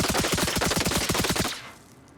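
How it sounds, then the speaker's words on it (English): Rapid automatic gunfire in Arma Reforger shoots through a wall, a loud burst of about a dozen evenly spaced shots over a second and a half, then quick fade into quiet. "I will give a demonstration by shooting through this one to hit the wall on the other side"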